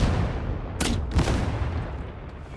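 An Ogryn's basic weapon in Warhammer 40000 Darktide fires two heavy blasts over a constant rumbling game backdrop, each shot a loud, close boom about half a second apart.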